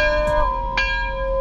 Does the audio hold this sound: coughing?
no